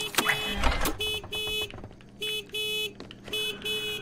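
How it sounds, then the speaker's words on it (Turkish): Repeated electronic horn blasts sound in short bursts with pauses between, a synthetic car horn in the game Secret Neighbor honking over a low background hum. "Kim bu kornaya basan ya?"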